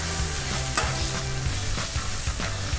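Philly cheesesteak beef and melted cheese sizzling on a hot griddle, a loud constant sizzle with spatula scrapes and stirring knocks every fraction of a second, close up and without voices.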